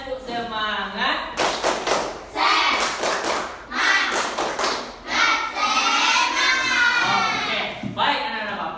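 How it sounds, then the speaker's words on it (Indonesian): A class of children performs a rhythmic spirit clap in a classroom, bursts of claps and thumps in patterned sequences, mixed with young voices chanting and shouting along throughout. "coba tepuk semangat"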